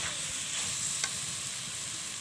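Chopped onion and chili sizzle loudly in a pan as a constant close hiss, with a single soft stirring scrape partway through.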